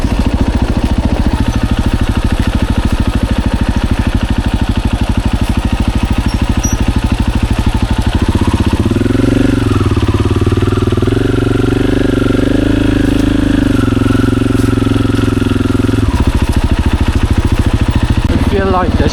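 A motorcycle rides along a slick trail, its engine droning steadily throughout and rising in pitch as it revs through the middle stretch before settling back, with some wind or rider noise over it.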